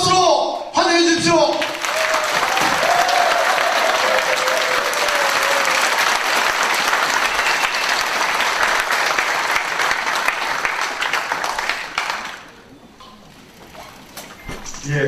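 Warm, full audience applause welcoming a speaker at a political policy presentation, beginning after a brief voice, holding steady for about ten seconds, then fading to scattered claps.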